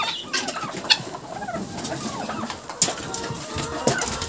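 Farm poultry yard with chickens, ducks and turkey poults on a sunny cold day: near, busy clucking, cooing and chirping calls overlap continuously, with a few sharper louder cries standing out.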